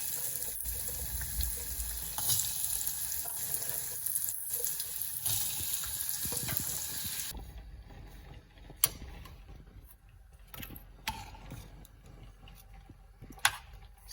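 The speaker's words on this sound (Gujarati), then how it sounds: "અને હવે નાખી દઈશું આપણે કટ કરેલા બટેકા" Cut potatoes dropped into a hot tempering with asafoetida and turmeric for a vegetable curry: a loud broadband sizzle for several seconds, then quieter with occasional crackles and small clinks.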